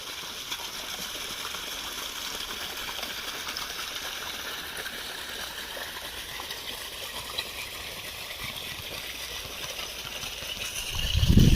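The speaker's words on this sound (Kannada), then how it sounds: "ಇಲ್ಲೇ ನೀರು ಹೋಗ್ತಾ ಇದೆ ಇವಾಗ ನೋಡಿ ಇಲ್ಲಿ ಅಡಿಕೆ ತೋಟದಲ್ಲಿ ಹೋಗ್ತಾ ಇದೆ ನೀರು" Water flows through an areca nut plantation with a faint, continuous gushing and trickling wash, steady throughout and swelling briefly at the very end.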